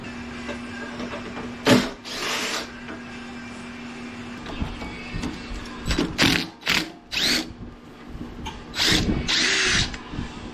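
Power drill backing screws out of a Honda HS720 snowblower during repair, several short whirring bursts with brief pauses between, close and fairly loud, no talking.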